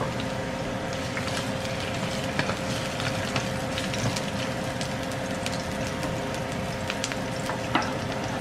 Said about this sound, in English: Fry pan, wait the oil get hot,